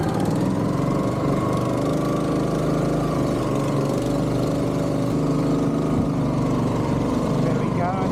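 A boat engine drones steadily nearby on a Bangkok khlong, a constant low motor hum with some splashing texture, running without pause.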